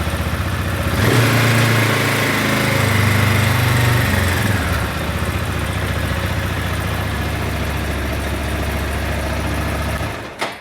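A Zongshen RX3 motorcycle engine, carbureted, catches on the starter and settles into a loud, steady idle with a rising rev early on before cutting off abruptly at the end.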